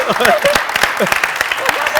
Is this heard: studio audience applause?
yes